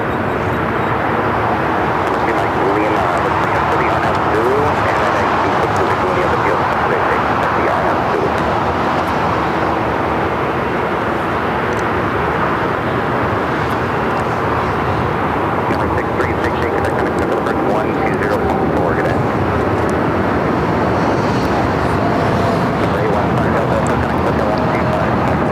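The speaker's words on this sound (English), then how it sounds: "This takeoff is American Airlines 2018, taking off to Philly on the 787-8 Dreamliner." An American Airlines Boeing 787-8 Dreamliner takes off from runway 25 right at LAX, its steady, loud jet roar holding broad and continuous throughout with a faint voice underneath.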